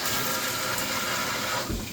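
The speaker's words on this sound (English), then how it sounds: "So Grandma is going to get a little water. Less than a cup of water." Water pours steadily into a measuring cup, a continuous close gushing splash for under two seconds with no talking.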